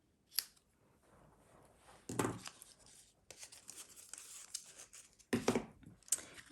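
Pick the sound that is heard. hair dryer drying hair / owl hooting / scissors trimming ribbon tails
scissors trimming ribbon tails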